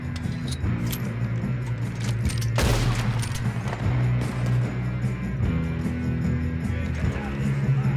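Gunfire in Red Dead Redemption 2, a dense fusillade of repeated shots with one loud close burst, rolling continuously over a low rumbling game soundscape.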